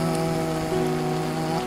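Heavy monsoon rain pours down in a dense, constant hiss. It stays loud and steady throughout, with no one speaking.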